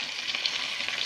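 Donair meat fries in a pan, giving a close, even sizzle with crackly texture that runs through the whole brief moment without speech.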